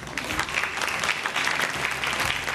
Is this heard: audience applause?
yes